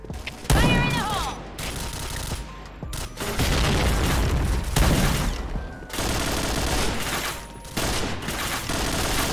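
Loud explosions and gunfire from a competitive tactical shooter match, with heavy booms, dense bursts of shots and mechanical clatter filling the scene, close and continuous.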